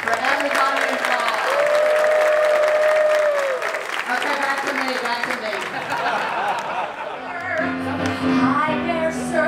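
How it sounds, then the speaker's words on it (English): A cruise-ship audience on a Celebrity Summit gay cruise breaks into sustained, loud applause that fills most of the stretch, with a voice speaking over the clapping and applause tapering near the end. "Let's give a big round of applause for everybody involved."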